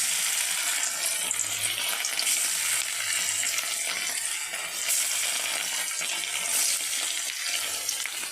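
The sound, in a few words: rohu fish frying in oil in a wok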